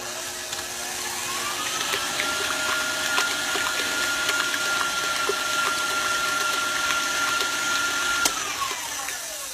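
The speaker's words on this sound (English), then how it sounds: "I'm going to mix that, of course, together till the eggs are all combined, so it's going to be a little loud." An electric hand mixer beats eggs for a tres leches cake batter, a steady, close motor whir with a whining tone that holds through most of the clip and winds down near the end.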